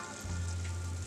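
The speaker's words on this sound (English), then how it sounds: "I'm letting these fry on a low heat, by the way, for about 8 to 10 minutes" Jamaican fried dumplings sizzling in oil over low heat, a soft steady crackle with a low hum running through the short stretch, no voices.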